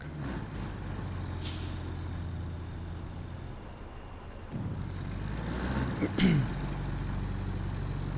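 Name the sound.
old truck engine and air brakes in video game Roadcraft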